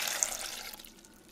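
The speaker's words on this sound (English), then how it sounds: "you're gonna add a cup of water" Water is poured into rinsed flour for a vegan birria recipe, a brief close splashing pour that tapers off within about a second.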